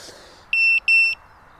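Two sharp, high electronic beeps in a row from an FPV drone's locator beeper, close and piercing, against a quiet background.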